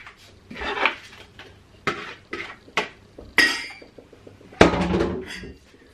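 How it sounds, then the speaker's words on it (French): Several sharp clinks and knocks as chickpeas tumble into a metal saucepan in irregular bursts over a few seconds, close and fairly loud. "je mets les pois chiches dans la casserole"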